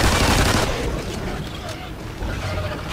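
Turret gunfire in a video game mission, a dense sustained burst of shots with loud low rumble that eases slightly midway, then resumes.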